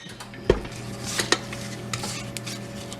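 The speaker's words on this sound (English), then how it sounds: "Go ahead and scrape that down." A spatula scrapes sweet potato pound cake batter down the sides of a mixing bowl, giving a few sharp clinks and knocks against the bowl among soft scraping, with no talk.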